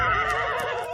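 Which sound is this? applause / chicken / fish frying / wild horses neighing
wild horses neighing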